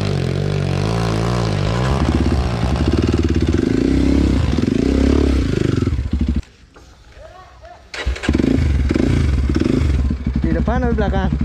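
A Kawasaki KLX 230 dirt bike runs at full throttle on an off-road trail. The loud, raspy engine roar rises and falls, drops away briefly, then surges back hard, with voices talking over it.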